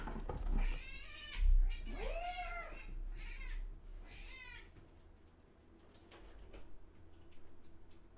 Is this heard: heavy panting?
no